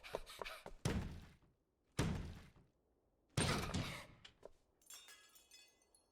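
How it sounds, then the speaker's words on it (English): Door kicked down in the anime Fate/Stay Night, a series of heavy slams and thuds spaced a second or so apart, loud and sharp against quiet gaps, with a faint clatter after. "she kicks the door down"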